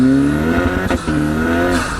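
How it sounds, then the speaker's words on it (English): A road car with 780bhp per tonne accelerates hard and makes a flat shift: a loud, close engine howl dips briefly at the gear change, then snaps straight back to full pull. "Let's do a flat shift."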